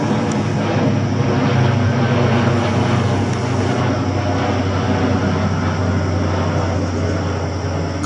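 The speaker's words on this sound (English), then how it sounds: "There's a plane about to go through the moon." A steady, droning aircraft engine rumbles continuously in the distance, a low, even roar with no pauses.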